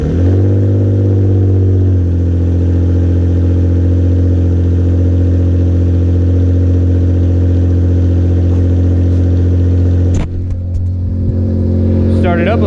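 Engine of a restored Mitsubishi 3000GT VR4 with a newly fitted downpipe, running loud and steady with a deep harmonic drone, a brief rev-up near the start, then a sharper shift with clatter toward the end.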